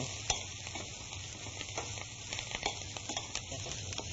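Kale sizzles and crackles steadily in melted butter in a pan as it wilts, with occasional stirring scrapes; close, moderately loud and continuous, with no talking.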